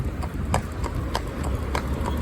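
A family cob horse trots, its hooves striking in a steady, even clip-clop rhythm at close range over a rumbling background.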